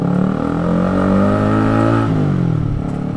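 A Honda CBR 150R K45A motorcycle, its chain worn and due for replacement, revs steadily while riding uphill past rice fields, the engine note droning loud and close with a slight rise and fall in pitch.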